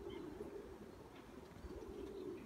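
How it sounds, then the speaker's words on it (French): Pigeons cooing near a loft, a soft, low, steady murmur of coos that is faint and continuous throughout, with no talking. "On va laisser voler tranquillement les pigeons."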